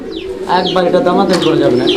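Fancy pigeons coo up close in low, throaty, rolling phrases, repeating steadily for the full two seconds.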